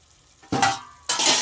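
A lid placed over a pot of cauliflower curry cooking in oil and spices without water: two sharp bursts of clatter and sizzle about half a second apart, close by, with no voices.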